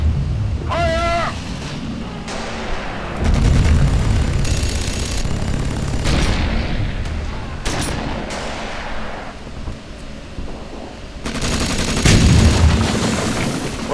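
Gunfire and heavy explosions ring out in Sudden Strike 3 as a pillbox is destroyed, with bursts of shots and booms coming in waves over a rumbling battlefield background.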